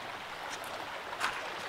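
A small stream flowing at an upland farm, giving a soft, steady broadband wash of water that stays faint and even throughout, with no voices.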